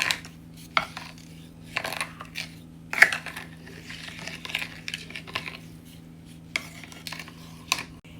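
A spoon stirs cassava cake mixture in a bowl, producing irregular scraping and clinking strokes that come in close bursts separated by short pauses, with no talking.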